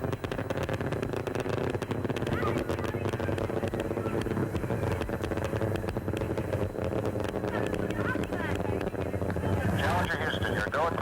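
Space Shuttle Challenger main engines thundering during ascent on the STS-7 launch, a broad continuous roar with crackle, steady throughout under radio voices.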